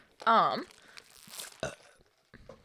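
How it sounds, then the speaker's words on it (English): A single short, guttural burp erupts near the mic, followed by faint mouth noises and quiet movement. "I keep burping"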